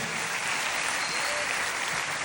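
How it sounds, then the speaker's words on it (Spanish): A church congregation at a conference gives steady, dense applause that fills the room evenly from start to finish. "Un aplauso al Señor."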